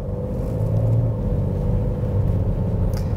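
A BMW X5 xDrive 35d diesel SUV pulls away, with a loud, steady low engine rumble and road drone heard from close by and no voices over it.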